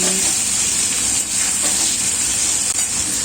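Bitter gourd frying in a pan gives a steady bright hiss and sizzle that holds constant throughout, fairly close, with faint kitchen sounds and no talk.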